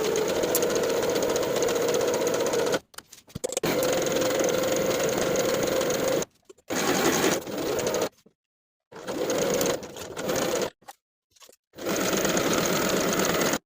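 A sewing machine stitches the side seam of a linen summer dress with a 3/8-inch seam allowance, running close and steady in several long bursts separated by short pauses.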